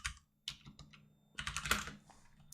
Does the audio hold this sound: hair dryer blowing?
no